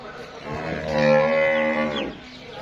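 A jersey cross cow in Pakistan gives a single loud, drawn-out moo lasting about a second and a half, close by and clear, with no talking.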